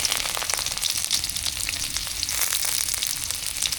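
Whole fish and chopped onion fry in hot mustard oil, giving a dense, steady close-up sizzle with crackling pops throughout and no voices.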